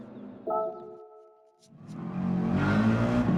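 A Mercedes race car accelerates during qualifying at the Spa circuit, with a brief tonal engine note followed by a rising, loud roar as the car builds speed close by.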